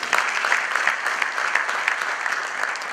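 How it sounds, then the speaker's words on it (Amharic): A church congregation applauds at a sermon, a dense, even roar of clapping that stays loud and steady throughout, with no voices on top. "አጨብጭቡ።"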